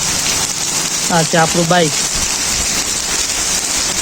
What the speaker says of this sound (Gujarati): વરસાદ ચાલુ છે જો જોરદાર।